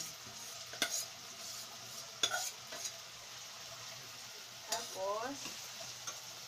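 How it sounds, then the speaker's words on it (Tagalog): Mung beans stirred and sautéing in a pan, with a soft steady sizzle and a few scraping strokes of a utensil against the pan; a brief bit of speech over it. "lalagay ko na po ang lagay na po mga kabayan, ang munggo"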